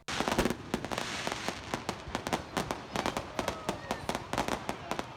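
Rapid fireworks bang and crackle in quick, irregular bursts, a dense string of sharp explosions going off continuously.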